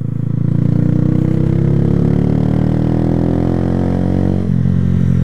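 A motorcycle engine drones loudly and steadily up close while downshifting without the clutch, its pitch gently shifting, then dropping briefly as the revs change near the end.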